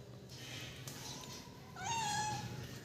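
A house cat meows twice, a short soft call followed by a louder, drawn-out meow, close by over a quiet indoor background.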